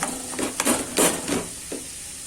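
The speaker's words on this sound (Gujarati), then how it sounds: "હવે આપણે ચૂંદો કરી લેશું" Boiled sweet potatoes mashed in a pan on low heat, with soft repeated squishing and scraping strokes of a utensil against the metal, fairly close and quiet, without talking.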